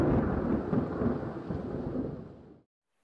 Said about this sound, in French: un énorme orage a éclaté.